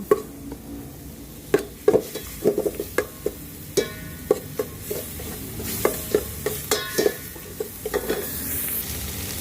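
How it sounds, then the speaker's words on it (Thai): Continuous close sizzling of curry paste stir-fried in coconut milk for pumpkin curry, with repeated scraping and clacking of a utensil stirring in a pan, at an irregular pace; no voices. "เอากะทิมาผัดพริกแกงให้หอม"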